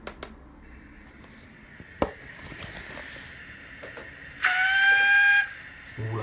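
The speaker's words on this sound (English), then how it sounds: "Ooh, lovely whistle." Sound decoder from Zimo/YouChoos fitted in a Bachmann model locomotive, giving a few small clicks and a faint running hum before a loud, sustained steam whistle blast of about a second near the end.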